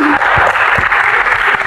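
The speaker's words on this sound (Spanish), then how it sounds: "¡Aplauso para Alexi!" Circus audience at Circo Los Maluendas applauding a performer: a loud, brief burst of crowd clapping and cheering, close and continuous, with a few low thumps underneath.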